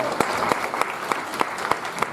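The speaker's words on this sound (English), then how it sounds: "A round of applause to all the inspiring lecturers that were before me" Applause from a live audience at a Fuckup Nights talk event in Tel Aviv-Yafo, a moderate clapping wash with a few sharper individual claps standing out at a steady rhythm, heard alone.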